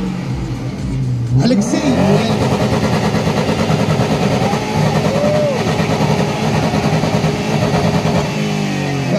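A car engine revs hard and loud at a stance car festival in Tyumen, its exhaust roaring and crackling continuously after a brief opening with a voice.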